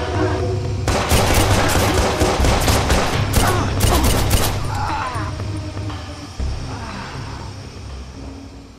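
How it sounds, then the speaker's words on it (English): Rapid bursts of automatic gunfire crackle loudly in a Watch Dogs shootout, dense volleys for several seconds with vehicle rumble underneath, then thinning to scattered shots. "I've got shots fired!"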